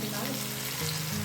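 Onion fries in a hot pan while kadhi is being made, giving a dense, steady, close-up sizzle with no break.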